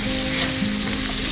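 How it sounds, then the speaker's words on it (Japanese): Prawns sizzle steadily in a hot pan while frying for a prawn butter curry, a continuous loud crackling hiss with no talking. "このジャーっていうこの焼いてるとこ聞こえる"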